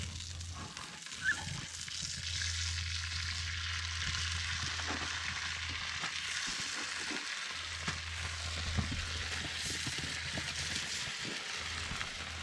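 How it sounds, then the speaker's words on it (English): Halloumi fries in lamb fat over an outdoor fire at a bush camp, a steady close sizzle and crackle continuing throughout with a few small pops. "I just got some halloumi, so that can go in the lamb fat."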